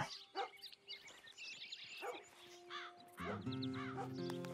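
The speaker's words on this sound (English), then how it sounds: "American Crow." An American crow in the Red Dead Redemption 2 game gives several harsh caws at uneven intervals, mixed with other bird calls and a sustained tonal game sound toward the end, moderately loud and without talk.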